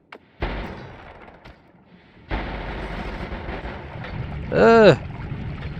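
Missiles explode in the video game Noita: a booming blast, then a second longer rumbling detonation, ending in a short rising warbling effect over a low background.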